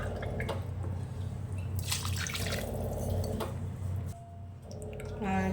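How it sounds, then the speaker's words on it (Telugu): Water is poured into a pot of dal khichdi with vegetables, splashing and dripping in uneven bursts at close range, with wet sloshing sounds between. "ఇప్పుడు 3 గ్లాసెస్ ఆఫ్ వాటర్ని యాడ్ చేసుకోవాలి"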